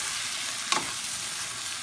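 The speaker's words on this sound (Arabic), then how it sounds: "بعد ما تشحر داكشي ديالي نزيد الكروفيت، بدا كيطيب." Shrimp and vermicelli filling for a seafood pastilla frying in a little oil in a pan: a steady, soft sizzle with one brief scrape or stir partway through, no voices.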